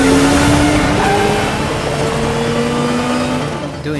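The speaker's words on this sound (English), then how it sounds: "Doing a wheelie, Barbara, really?" A heavy motorcycle in the Gotham Knights video game revs loudly and continuously, a dense droning engine tone with wavering pitch that holds steady for a few seconds, close and alone.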